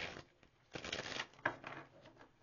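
A deck of tarot cards is shuffled by hand in a quiet run of soft riffling and slapping, close but faint, with no talking.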